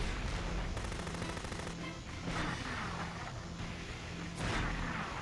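Bursts of mortar and gunfire from a video game rattle out in a dense, continuous barrage, several heavier thumps standing out around the middle and near the end, with no voices.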